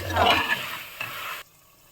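Mushroom masala for biryani is stirred in a hot pan, with a short burst of scraping and sizzling that lasts about a second and a half and then stops, leaving near silence.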